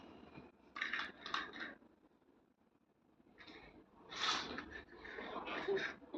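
Masala paste being stirred in a pan for egg curry, with soft scraping and clinking bursts in two clusters separated by a quieter pause, close by.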